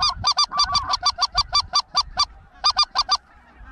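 Geese honk in a rapid run of loud, nasal calls, a brief pause, then another quick burst of honks, close by with no talking.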